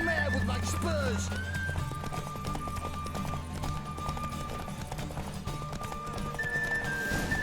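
Hooves clip-clop at a run from a horse in The Witcher 3, with a whinny near the start and low music and game sound under the steady galloping rhythm.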